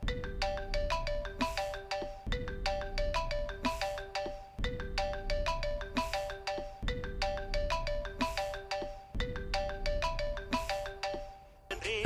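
A mobile phone ringtone plays a melodic song tune, repeating its short musical phrase several times in a steady loop at moderate volume with no talk over it.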